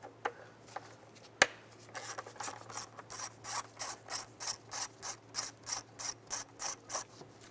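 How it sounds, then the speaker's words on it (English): A hand ratchet fitted with a 10 mm socket clicks in a steady run of about fifteen rapid bursts, loosening a bolt on the air intake of a 2005-2010 Jeep Grand Cherokee, close and clear with no talk. "Now using a 10 millimeter socket, we want to go ahead and remove this bolt right here."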